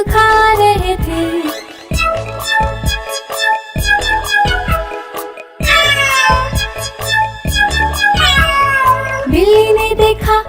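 Cat meows in a Hindi children's rhyme, a rapid run of bright, melodic mews repeated over and over against a loud musical backing.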